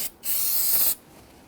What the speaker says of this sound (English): you want to go ahead and spray and clean up the cover itself